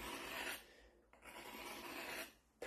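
A dental hand instrument is drawn across a sharpening surface in two quiet, steady rasping pull strokes separated by a short pause, close and alone.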